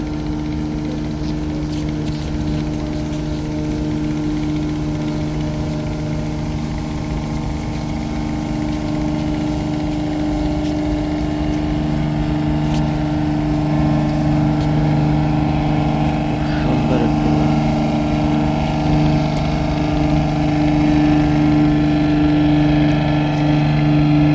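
A boat engine drones steadily at Beltola ferry ghat in Barisal, a loud, continuous low hum with faint background voices throughout.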